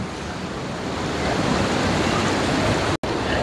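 A mountain stream in Rudraprayag rushes past, a dense, steady roar of flowing water heard close and loud with no break, broken only by one brief dropout near the end.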